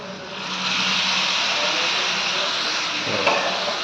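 Hot water poured into a pan of home-style chicken gravy, a loud, steady broadband hiss of sizzling steam that holds throughout with a brief knock near the end.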